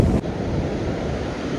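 Sea waves on Dapoli beach wash in as a steady broadband roar with a constant windy rush, loud and close throughout, with no voices.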